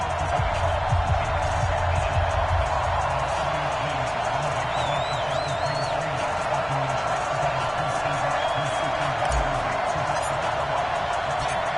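Broad, steady stadium crowd roar fills a Madden 20 NFL video game matchup between the Los Angeles Rams and Atlanta Falcons, a dense continuous wash of cheering with no individual peaks.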